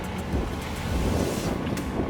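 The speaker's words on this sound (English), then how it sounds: "can you hear the wind? Ah, yeah, it's blowing." Strong wind gusting across a boat at anchor in Tonga, a steady loud roar with buffeting against the microphone and faint water movement underneath, no voices.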